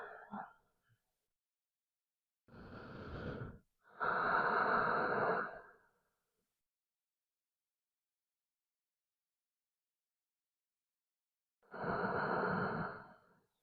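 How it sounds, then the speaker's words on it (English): Slow, deep breathing during a gentle yoga flow: a short breath at the start, then three long, airy inhales and exhales heard close up, separated by stretches of silence. "Breathing deeply here."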